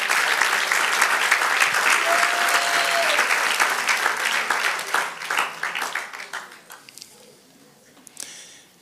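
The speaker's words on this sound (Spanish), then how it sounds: "Dale otro aplauso a nuestro Dios." Applause from a church congregation, dense and loud, that slowly thins into scattered claps, with a voice heard briefly over it.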